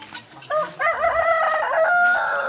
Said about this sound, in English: Yes, Mr. Roaster, we heard you well